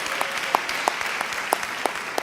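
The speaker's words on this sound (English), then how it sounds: "Round of applause for the Royal Air Force." A crowd at an awards ceremony applauds steadily, dense clapping throughout with a few sharper claps standing out, fairly loud and close.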